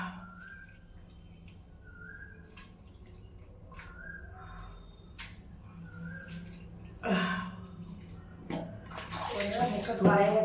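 A container fills with water after face washing, the splashing pour swelling louder toward the end over a quiet room, with a person talking nearby.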